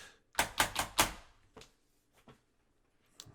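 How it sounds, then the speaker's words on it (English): Computer keyboard slammed in frustration: a quick burst of four sharp, loud clattering hits, followed by a few softer scattered knocks fading into quiet. "That was me slamming my keyboard because I'm fed up."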